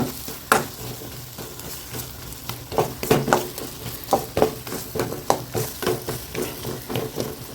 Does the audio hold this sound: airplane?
no